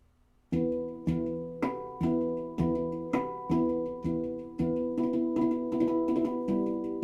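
A Halo Aegean handpan plays a steady chord progression with overlaid harmonics, a dozen or so resonant strikes in a flowing rhythm, each ringing into the next; close and solo with no talking.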